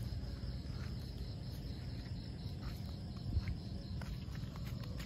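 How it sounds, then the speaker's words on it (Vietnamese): Cicadas on a tree after the season's first rain in Vietnam give a steady, faint insect drone with low rustling and shuffling underneath, distant and continuous without talk. "Trên cây này rất là nhiều ve sầu nha."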